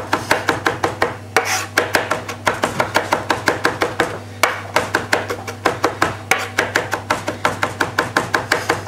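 Knife blade chopping fresh parsley on a chopping board in a steady, rapid rhythm of close, crisp thuds, with only brief pauses between runs of strokes.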